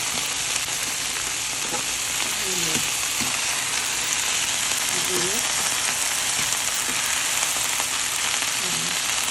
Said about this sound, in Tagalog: So, gigisa lang natin na ganyan.